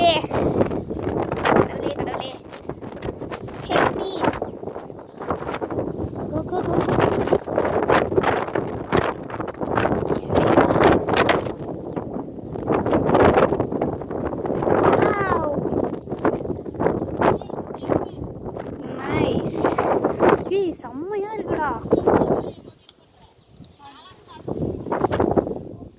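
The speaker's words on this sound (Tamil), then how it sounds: "ஐயோ காத்து அடிச்சு போதே." Strong wind blowing on a mountainside near a village temple, buffeting the microphone in loud, uneven gusts that swell and fade throughout, with voices occasionally heard beneath the roar.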